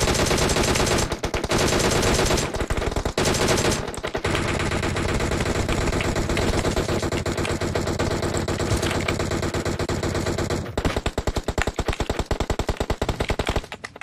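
Rapid automatic gunfire in a video game rattles almost nonstop, loud and dense, with short breaks and a few scattered single shots toward the end.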